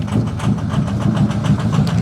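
A 6.0-liter Ford F-250 diesel engine, fitted with two new batteries, runs with a steady, loud, close rumble and an even pulsing idle throughout, with no talk.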